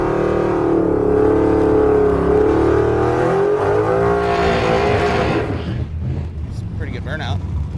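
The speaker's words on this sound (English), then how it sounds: "It's a pretty good burnout" At Bonneville, a car does a burnout with a loud, sustained engine roar and howling tire spin close by that fades into scattered crowd noise and chatter near the end.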